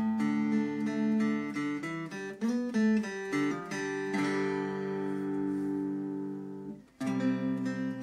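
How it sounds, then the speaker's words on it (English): Java Box electric guitar playing a clean tone through an amplifier with no effects: single notes and chords ring out clearly, a long sustained chord decays for a few seconds, then a fresh strum near the end, with no talking. "what you're hearing now is just the clean tone through an amplifier, no effects."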